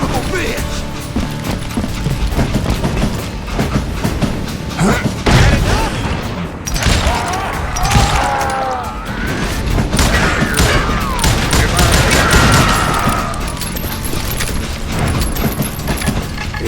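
Rapid gunfire and heavy booms from the Western shooter game Call of Juarez: Gunslinger fill a dense, loud battle with mechanical clacks, while voices shout over the shots.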